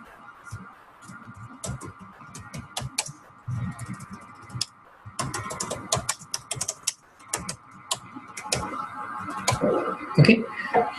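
Quiet, uneven typing on a computer keyboard as Python code is entered, with irregular bursts of key clicks and brief pauses, close and alone without talk.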